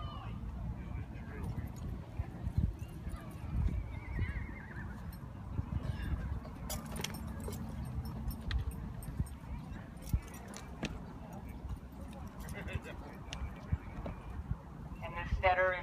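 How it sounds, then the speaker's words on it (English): Morgan pack horses at a Dubois, Wyoming pack horse race clip-clop and whinny amid outdoor bustle, hoofbeats and occasional neighs mixed under nearby talking voices. "These two little black horses are Morgans off of the Cross Ranch."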